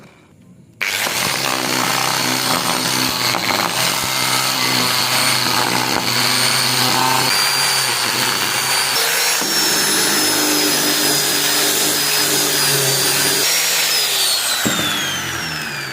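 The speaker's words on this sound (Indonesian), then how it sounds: "kita gunakan amplas bekas untuk meratakan lingkaran ini" A loud, continuous whine, steady and close, with a high-pitched tone that drops slightly near the end, while used sandpaper levels a circular part on a homemade tool.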